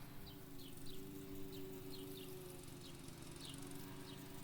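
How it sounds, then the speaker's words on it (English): Bees buzz through the ambience of the video game Anemoiapolis, a faint, steady insect drone with low tonal hum beneath and soft repeated bird chirps scattered over it. "The bees, the birds, the lawnmower."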